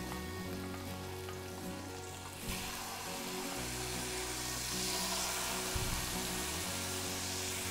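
Salt cod goes back into a hot oiled pan for bacalhau à portuguesa and sizzles loudly and steadily. The frying swells as the fish hits the pan, under a constant kitchen hum.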